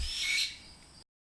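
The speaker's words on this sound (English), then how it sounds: "The species is a red-tailed hawk" A red-tailed hawk named Buster gives a single close, loud, raspy high-pitched screech that trails off after about a second.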